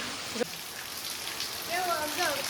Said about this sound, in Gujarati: અને એ પણ જોરદાર વરસાદ આવે છે।